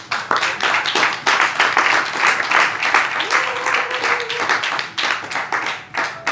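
A church congregation breaks into loud, sustained applause to acclaim Jesus. Dense clapping fills the room, with a few voices and cheers mixed in.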